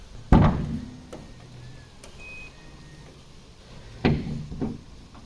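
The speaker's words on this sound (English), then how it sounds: "So there's the auto pull down for the 24 and newer C8 Corvettes" Carbon fiber hood on a C8 Corvette Z06 closing with its automatic pull-down: a sharp thunk, a quiet motorized hum, then a second latching clunk near the end, all fairly close and without talk.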